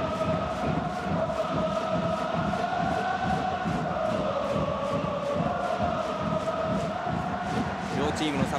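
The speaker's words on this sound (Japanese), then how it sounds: "両チームのサポーターが大きな歓声を上げています。" Football supporters of both teams, Oita Trinita and JEF United Chiba, cheer loudly at the National Stadium before a J-League promotion playoff final, a dense continuous crowd roar and chanting with rhythmic pulses, heard under steady commentary talk.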